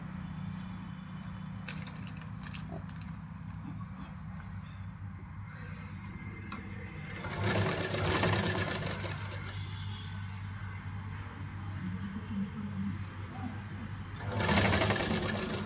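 A sewing machine stitching a baby frock, running in a steady mechanical whir with two louder, faster bursts, close over low background hum, no talking.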